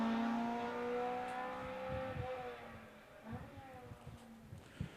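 Toyota 4OGE-engined race car, a Toyota 11 series, running at a historic sprint meeting in Leyburn, its engine droning steadily at mid distance with a rising rev note and rougher bursts near the end, as a commentator talks over it.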